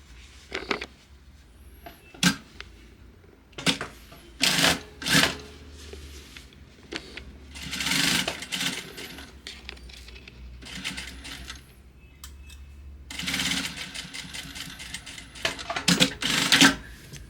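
A sewing machine stitches a shoulder seam on a tailored vest at a 1 cm seam allowance, running in short stop-and-go bursts of rapid mechanical clatter, close and fairly quiet, with pauses and small handling clicks between runs.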